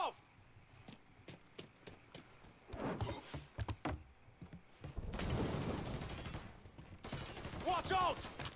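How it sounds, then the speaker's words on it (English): Gunfire in the Mafia 3 video game, with bursts of shots and rattling automatic fire in short clusters, louder toward the middle and end, amid other game noise. "who is shooting me from where?"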